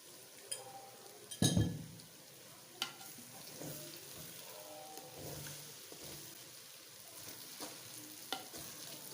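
Okra with leftover masala frying in a pan, a quiet steady sizzle broken by a few louder stirring knocks and scrapes, especially one sharp clatter near the start, with no talking.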